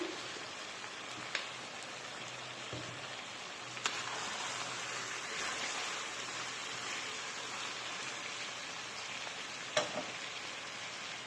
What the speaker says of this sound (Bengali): আমি আরও কিছুক্ষণ এভাবেই আর একটু ভাজা ভাজা করব।